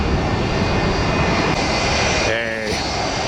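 A Boeing 767 jet airliner roars through its takeoff, a loud, steady, broadband engine rumble that fills the whole stretch, with a faint rising whine appearing near the end.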